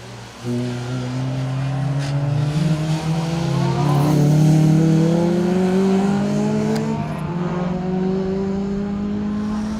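A Ford Fiesta rally car in Martini livery revs hard along a stage of the Colin Ellmore Memorial Rally, its loud engine note climbing steadily and swelling as it nears, then easing slightly toward the end.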